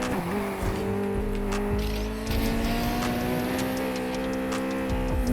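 Honda S2000 race car in Need for Speed Heat, engine holding a steady loud drone with shifting pitch as it laps the track, faint tire noise and ticking over the top, no talk.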